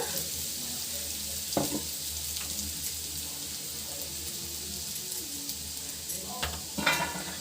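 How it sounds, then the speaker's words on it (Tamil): Ground bread crumbs frying in ghee over a low flame, a soft continuous sizzle with occasional scraping stirs, a couple of sharper clatters toward the end. "லோ ஃப்ளேமில் வச்சுட்டு நல்லா வறுத்து கொடுங்க"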